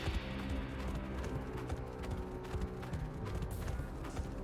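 Horse hooves clip-clop steadily in Xenoblade Chronicles: Future Connected, corrupted horses trotting close by amid a dense game soundscape with music and effects layered underneath.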